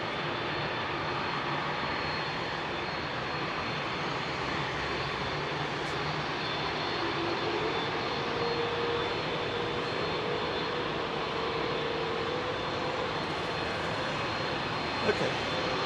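A jet departing London Heathrow gives a long, steady engine roar at moderate distance, with a faint whining tone drifting through it and a brief knock near the end.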